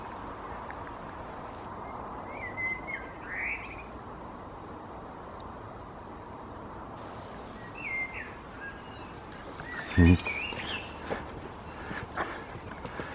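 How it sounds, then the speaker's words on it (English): Woodland birdsong in the open air, believed to be a blackbird, with several short faint phrases scattered over steady background hiss and a louder burst of sound near the end. "Now I'm guessing that that's a blackbird."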